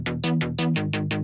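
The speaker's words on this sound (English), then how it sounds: "we have this little bass line" The first layer of a bass line from a chill melodic drum and bass track, with no sub bass, plays as loud, bright, buzzing notes in a bouncing rhythm, about eight hits in quick succession.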